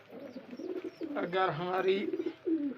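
Pigeons coo close by in soft, throaty, rolling calls, a few short phrases over a couple of seconds, mixed with brief speech.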